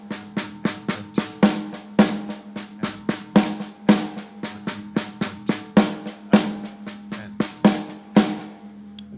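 Drum kit played slowly in steady 16th notes, a continuous run of sharp strokes with regular louder accents standing out, close and alone without speech.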